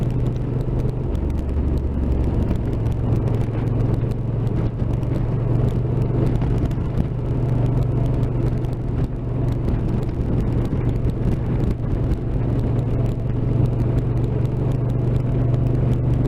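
A Honda NT1100 motorcycle cruising along an open road, heard from the rider's position as a steady low engine drone mixed with constant wind and road rumble, unbroken by talk.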